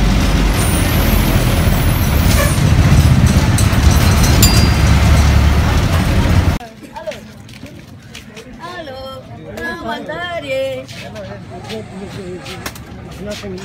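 A bus in Varkala, India rumbles loudly up close with engine roar and a hiss of air brakes for several seconds. It then gives way to a quieter street scene where voices and people chatter.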